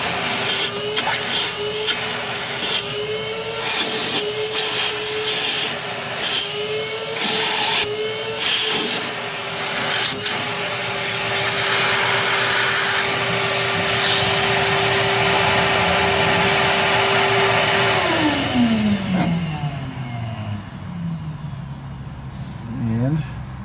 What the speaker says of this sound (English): First, we're going to vacuum out that